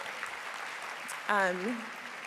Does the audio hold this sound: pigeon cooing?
no